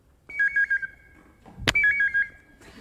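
A mobile phone ringtone rings twice, each a quick warbling electronic trill of several repeated beeps, split by a short loud knock or clatter, with no voices.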